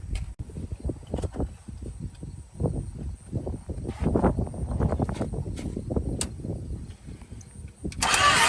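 A 1972 Imperial that sat for 41 years cranks over with gas poured down its carburetor: a loud, uneven churning of the engine runs nearly continuously for about eight seconds, surging harder near the end.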